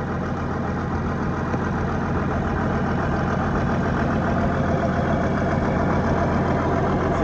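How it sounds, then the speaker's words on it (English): A heavy equipment engine runs at a steady idle, a constant low, rumbling drone close by with no talking over it. "She's just pretty noisy to run full throttle, but it fires right up and goes just like it should."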